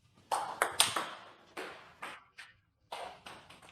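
Several crisp, sharp tennis racket strikes on a ball ring out up close, spaced by short pauses, with no talking.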